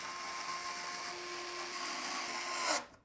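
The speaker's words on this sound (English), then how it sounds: "we'll secure the fans into place using the included long radiator screws" A power screwdriver drives long radiator screws to fix PC fans onto a radiator, giving a steady high whine with a bright ringing tone, close and loud, that winds down abruptly at the end.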